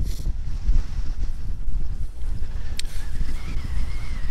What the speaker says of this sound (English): Cold wind today. Sorry if it's spoiling the audio.